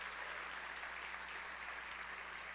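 A church congregation claps together in steady, continuous applause, a soft even wash of hands heard from some distance with no breaks.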